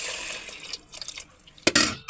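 Water splashes into a pot of roasted khichdi ingredients, a steady trickle followed by a louder gush near the end, close by and with no voices.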